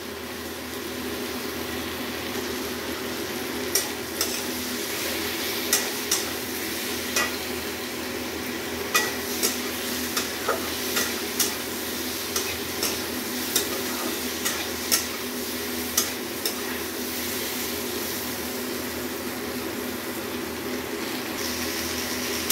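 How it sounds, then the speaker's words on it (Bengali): Spices with ground coriander and a little chili powder fry in a pan for a Bengali fish curry with potato and pointed gourd, a steady soft sizzle broken by sharp scrapes and taps of the stirring spoon. "একটু হালকা লঙ্কা গুঁড়ো দিয়ে এটা ভালো করে কষতে হবে।"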